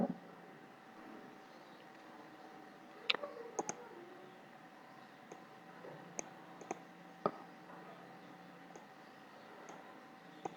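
A computer mouse clicked several times while saving a page during website setup, giving sparse, crisp single clicks and a few quick pairs that sound faint and close against a quiet room hiss.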